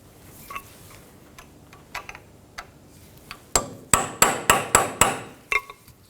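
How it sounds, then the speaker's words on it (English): Sharp metal-on-metal hammer blows drive a punch into a front wheel hub on a 2007-2017 Ford Expedition, a few light taps first, then a rapid run of about eight loud, evenly spaced strikes close by. "we're going to hit inside of here with a punch and make it move"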